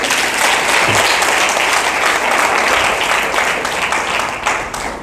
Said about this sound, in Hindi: पास्टर साहब के लिए ताली बजा दीजिए।